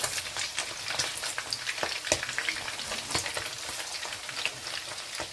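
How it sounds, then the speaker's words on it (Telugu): Paneer cubes fry in a pan with a steady, dense sizzle and crackling pops, close and alone, with no talking. "ఇలా పన్నీర్ అయితే వేగిపోతుందండి"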